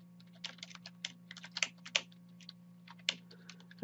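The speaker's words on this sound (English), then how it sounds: "I'm just typing this" Irregular bursts of computer keyboard typing, close up, with quick clustered keystrokes and short pauses over a steady low hum.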